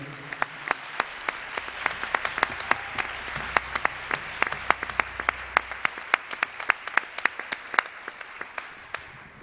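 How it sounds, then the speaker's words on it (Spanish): Audience applauding a pianist at a tribute concert, a sustained crowd of clapping with sharp individual claps standing out sharply and fading toward the end. "El aplauso para él."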